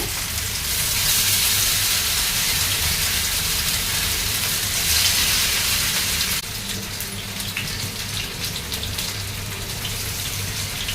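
Fish pieces frying in a few spoons of oil in a pan, a steady close, loud sizzle and crackle running unbroken throughout with no talk.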